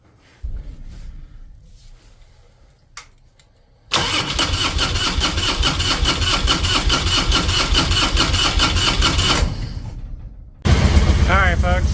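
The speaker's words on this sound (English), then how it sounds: "So I'm gonna see if the bike runs." A 2003 Harley-Davidson Road King with its carburetor freshly reinstalled cranks and fires up after a few seconds of quiet shuffling, then runs loud and steady at idle close by, ending in a sharper rev-like burst.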